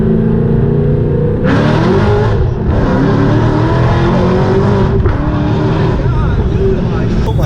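A car pulls hard on drag radials, its engine roaring loud and close as it revs up through the gears with a brief shift dip, while excited voices shout over the acceleration.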